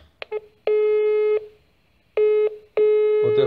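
Telephone line tones heard through a COSMOTE Speedport Entry 2i router: a few short dial clicks and then repeated loud, steady beeps in even on-off bursts, with no talking.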